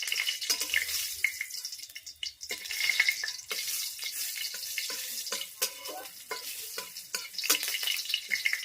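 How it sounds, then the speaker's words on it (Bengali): Panch phoron spices crackle in hot oil for a potato curry, a bright, fizzing sizzle broken by repeated scraping stirs and clinks of a utensil against the pan, close and with no talking. "পাঁচফোড়নটা ভাজা হয়ে গেলে"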